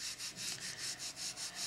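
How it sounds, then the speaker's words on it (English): An aluminum cleaning rod rubbing back and forth inside a Nagant revolver barrel from the muzzle, making soft, even scraping strokes in a steady rhythm of about four per second, close and quiet. "this is the only way to clean an Nagant revolver"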